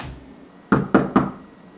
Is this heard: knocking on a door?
yes